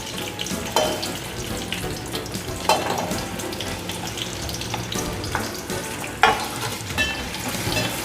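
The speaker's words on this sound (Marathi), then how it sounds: "आपलं तेल गरम झालं आहे, त्यात सगळ्यात पहिला मी कांदा टाकते।" Chopped onion sizzling in hot oil in a pan while preparing a Marathi vada usal, a steady broad hiss with occasional louder crackles and spoon scrapes, close and without talk.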